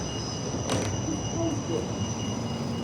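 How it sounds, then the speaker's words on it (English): Rumbling passenger train passing at moderate distance near Perth, Australia, with a steady whine and metallic rail noise, plus a brief squeal; faint voices murmur in the background. "that's a TCL train, I think."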